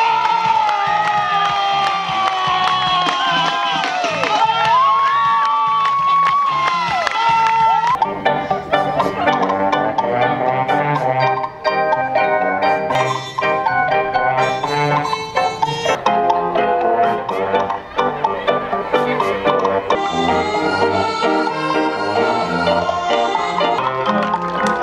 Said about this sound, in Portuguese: Vocês batam muitas palmas.